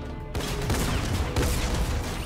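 A sudden burst of gunfire from the shooter game Fortnite cuts in after a brief quiet moment, then continues as loud, rapid, overlapping shots for about two seconds.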